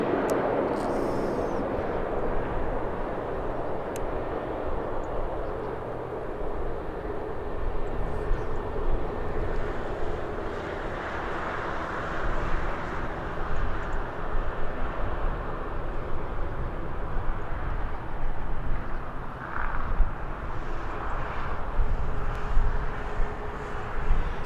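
A Jet2 airliner passes at Birmingham airport, a broad, steady engine roar that holds loud for the whole stretch with no talk.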